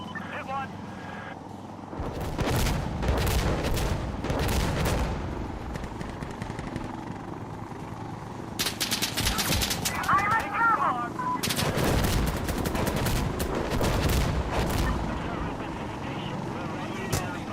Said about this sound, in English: We're getting some small arms fire.